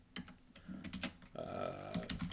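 Computer keyboard keys typed in quick irregular bursts with short pauses, close and fairly quiet, while digitally coloring an Aquaman pin-up illustration.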